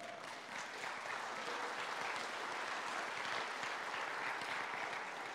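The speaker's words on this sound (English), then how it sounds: "It feels like a State of the Union because you're clapping regularly" A sermon audience claps steadily, a broad, even wash of applause heard at a moderate distance with no talk on top.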